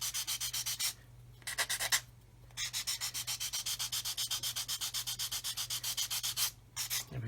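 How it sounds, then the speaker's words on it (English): Hand sanding of a plastic part from a 1/35 Hobby Boss Defender SWB model kit, a close, steady rapid back-and-forth scratching in quick strokes, broken by two short pauses, with a low hum underneath. "sand this away here."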